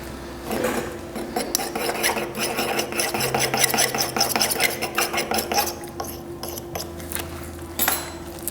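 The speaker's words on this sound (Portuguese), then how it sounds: "uma mistura no Dapping" Dental acrylic is mixed in a small dappen dish with quick, close gritty rubbing and scraping strokes in a steady rhythm, fairly loud, with no talking.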